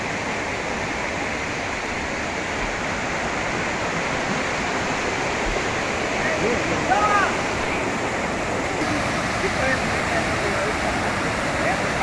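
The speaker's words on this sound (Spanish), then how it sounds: "ya llegamos a lo que se conoce como la Cascada Monterrey" Cascada Monterrey, a river waterfall near Salcoatitán, Sonsonate, rushes as a steady, loud broadband roar that fills the whole stretch without pause.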